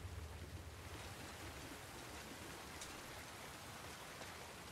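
Steady rain falls in The Last of Us Part II near a boat, a dense, even hiss of drops hitting surfaces that stays constant and fairly close throughout, with no voices.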